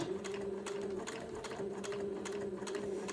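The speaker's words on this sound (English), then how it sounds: "just sew right to the right of the Entredo ladder when you're doing this first pass of straight stitch" A sewing machine sews a straight-stitch pass beside entredeux lace trim on a white button-on suit, a steady, moderately quiet motor hum with a fine regular needle tick, alone with no voices.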